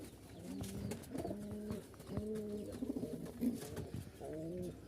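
Giribaz pigeons at a Rajshahi loft cooing in repeated low, rolling phrases, several birds overlapping at moderate distance with steady background hum, no talk.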